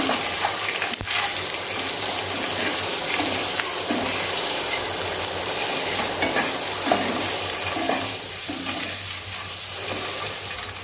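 Boiled eggs for egg biryani being stir-fried in a pan: a steady, loud, close sizzle of hot oil with spatula stirring and scraping throughout, no voices.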